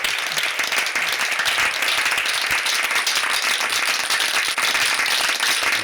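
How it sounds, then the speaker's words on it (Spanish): Loud, sustained clapping from an audience applauding panel guests at a workplace awards presentation, a dense even roar of hands lasting the whole stretch with no talk. "un aplauso para ellos"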